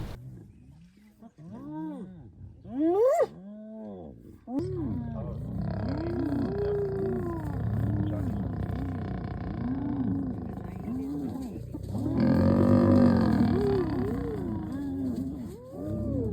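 Spotted hyenas harassing a group of lionesses on a cold winter morning, with lions calling: deep, rolling roars and grunts mixed with rising whooping cries, repeated in waves at moderate distance, with no one talking.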